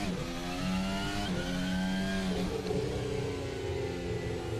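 Engine of a car in an F1 racing video game, revving high then dropping in pitch twice as it downshifts and engine-brakes into a corner, loud and continuous with a steady whine.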